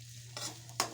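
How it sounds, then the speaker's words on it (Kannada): Chopped onions hit hot oil and get stirred in a pan, with two short scraping sizzles about half a second apart over a steady low hum. "ಎಣ್ಣೆಗೆ ಈ ಉಳ್ಳಾಗಡ್ಡಿ ಹಾಕ್ತೀನಿ"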